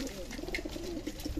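Domestic pigeons feed from both sides of a feeding tray, soft low cooing and faint bird murmurs rising in a steady, close, quiet stream.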